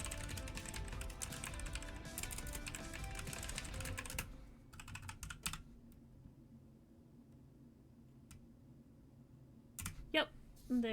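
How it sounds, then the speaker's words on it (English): Fingers type on a computer keyboard during a home livestream, a dense run of clicks at first that thins to scattered keystrokes and a few sharper taps, with talk faintly in the background. "Typing."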